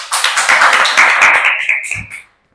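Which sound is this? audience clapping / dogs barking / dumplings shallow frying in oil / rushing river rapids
audience clapping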